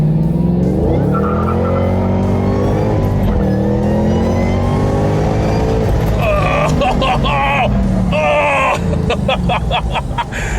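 A Shelby GT500 Mustang with a supercharged Cobra engine brakes hard from speed. The tires squeal in a long, loud screech over steady engine and road noise, with several bursts of higher squealing toward the end.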